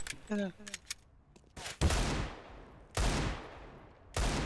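Loud gunfire bursts from the video game CS:GO crack out three or four times, each shot followed by a long decaying tail, with brief voice sounds at the start.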